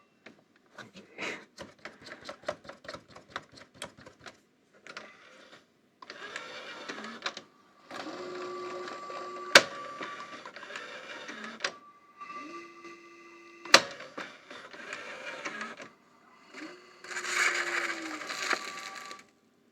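A National NV-280 VHS VCR's loading mechanism whirs, clicks and clunks in stop-start bursts, with motor whines and sharp mechanical snaps as it repeatedly pulls the tape back in, close and fairly quiet.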